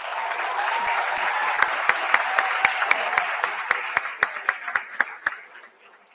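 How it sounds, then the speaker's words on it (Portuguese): Audience applause at a law week event at an institute, a dense wash of many hands clapping that thins toward the end, with a few louder individual claps standing out and fading out by the last second. "Peço a todos uma salva de palmas."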